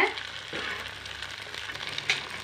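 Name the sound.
eggs frying in a pan for egg podimas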